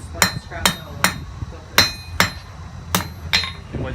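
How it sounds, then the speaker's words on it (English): A homemade trip hammer built from scrap metal pounds metal during blacksmith forging, giving about eight sharp, ringing metallic strikes in a loose, uneven rhythm with a low hum between them. "It's a homemade trip hammer."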